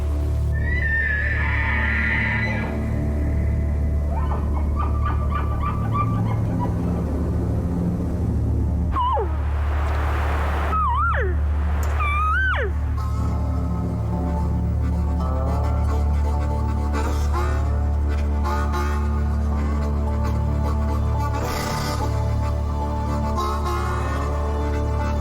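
A Montana elk answers cow calls late in the season in a forest, letting out a few loud, high rising bugles with squealing whistles over a low rumbling background.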